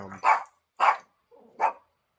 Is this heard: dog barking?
yes